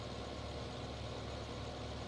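A tractor engine in Farming Simulator 15 runs at a steady low drone while moving a trailer, a constant rumbling hum with no talk and no change in pitch.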